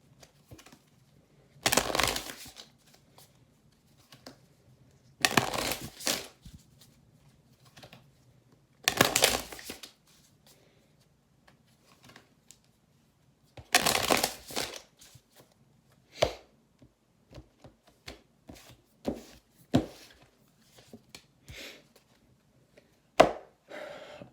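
Moon Oracle cards being shuffled and drawn, heard as four separate bursts of riffling and shuffling followed by scattered light taps and flicks as cards are laid down, close and fairly quiet, with no talking.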